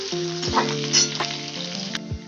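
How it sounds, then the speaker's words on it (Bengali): Potatoes drop into hot oil and fry with a steady, close sizzle, crackling and bubbling, with a few brief clatters and surges in intensity and no talking. "এবার এই তেলে দেবো আলুগুলো এই আলুগুলো দিয়ে এবার একটু আবার ওই রকম ভেজে নেবো"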